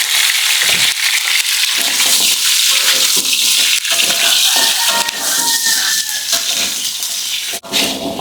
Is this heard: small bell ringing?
no